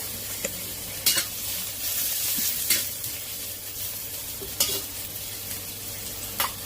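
Ginger slices sizzle in hot oil in a wok over medium heat, a steady frying hiss broken by a few sharp spatula scrapes and clacks against the pan, with no voices.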